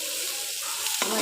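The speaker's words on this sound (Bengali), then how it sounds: "একটু মাছ ভাজি করতেছি" Fish seasoned with turmeric, chili and salt fries in a pan over garlic and five-spice, producing a brief, steady close sizzle with no voices.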